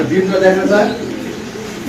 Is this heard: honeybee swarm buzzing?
no